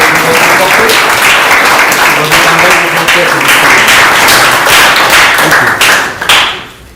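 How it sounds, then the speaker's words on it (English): Audience applause fills a room after a talk at an AI winter school, a steady dense wash of many hands clapping close by that fades out near the end. "we're going to give you a massive clap again"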